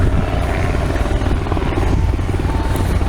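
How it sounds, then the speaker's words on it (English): Helicopters flying over Washington DC, a steady loud rotor thrum and low engine rumble holding throughout without a break. "Look at these helicopters."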